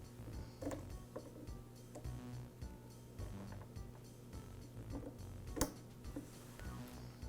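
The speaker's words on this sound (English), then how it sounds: "Now I can remove the retaining ring." A retaining ring being worked out of a Husqvarna backpack blower piston on a bench gives faint, close metallic ticks, scrapes and small clicks in an irregular rhythm, with one sharper snap near the end and no speech.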